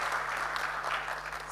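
An audience claps for a speaker stepping down at a national ICT job fair launch, a sustained patter of applause over a faint steady electrical hum.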